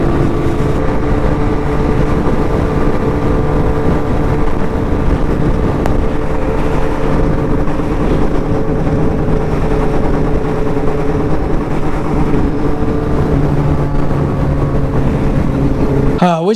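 A turbocharged Gen 3 Suzuki Hayabusa motorcycle engine runs loud and close with a steady rough drone and a faint uneven sputter, continuing without a break.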